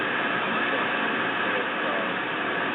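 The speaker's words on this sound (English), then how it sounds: "So let's listen to what it sounds like raw, and here it is." A raw digital-mode shortwave radio broadcast signal, about 10 kilohertz wide, hisses as a dense, even static-like wash that stays constant throughout with no pauses.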